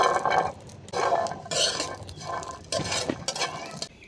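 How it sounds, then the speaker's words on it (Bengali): Green chilies fry in a pan, heard as continuous scraping and clinking of a utensil stirring them, with rough bursts of frying noise and no talk. "কাঁচামরিচ গুলো ভাজছিলাম।"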